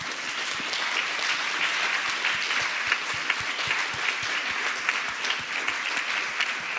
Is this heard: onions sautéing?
no